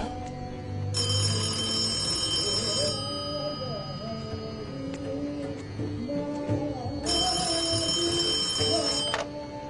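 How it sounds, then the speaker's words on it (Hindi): A telephone bell rings in two loud bursts, near the start and again later, with music and background sound continuing beneath throughout. "अब इस फोन की घंटी तभी बजती है जब तुम्हारा फोन आता"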